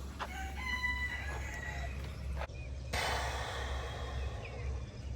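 Meyer Hatchery chickens in a backyard coop give several close clucks and a short crowing call over a steady low hum.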